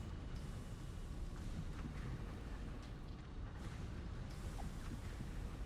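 Steady wind blowing inside a Satisfactory game level, a continuous low broadband rush with gentle gusts, fairly faint and unbroken, no voices over it.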